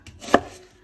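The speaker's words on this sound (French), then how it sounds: "l'oignon et l'ail, on va les mincer assez fin" A single crisp knife chop through an onion on a cutting board, close and brief, with faint kitchen ambience around it.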